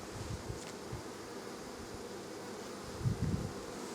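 Honeybees humming steadily around crowded hives that may be about to swarm, a soft continuous buzz with a brief louder pass of a bee near the end.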